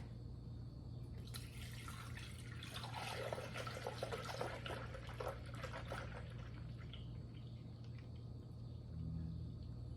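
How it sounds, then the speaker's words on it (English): About two liters of milk pour into a Thermomix TM6 mixing bowl, a soft, steady liquid splashing that swells over several seconds and then fades to a quiet hum. "Then to the thermomix, I'm gonna be adding 2 liters, about 2 liters of milk."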